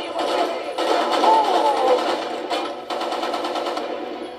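A turret machine gun in the video game 007 Quantum of Solace fires rapid continuous bursts, close and loud, broken by a short pause before the rattle resumes.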